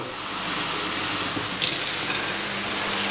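Water gushes steadily from a tap into a pan of canned tomatoes, a constant broadband hiss and splash heard close and fairly loud throughout.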